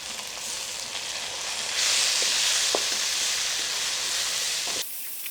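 Coriander leaves stirred into a curry frying in a pan give a steady hiss of sizzling that swells louder partway through, with a few faint scrapes of stirring, then cuts off abruptly near the end.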